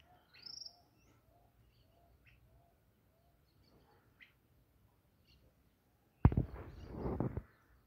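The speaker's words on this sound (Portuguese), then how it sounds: "passarinho ali cantando muito, mas muito bonito mesmo." A few brief, faint chirps of a small bird sound in a quiet outdoor setting, followed by a louder rustle or noise near the end.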